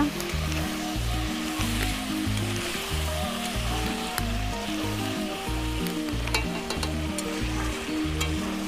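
Chicken kosha sizzles in a pan as a steady, fairly quiet frying hiss, with the occasional faint crackle and a low, repeating musical pattern underneath. Nobody speaks.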